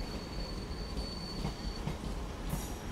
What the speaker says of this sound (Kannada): ಇಲ್ಲೊಂದು ಮೆಮು ಟ್ರೈನ್ ಎಂಟ್ರ್ ಆಗ್ತಿದೆ ಪ್ಲ್ಯಾಟ್ಫಾರ್ಮ್ ನಂಬರ್ 1ಗೆ.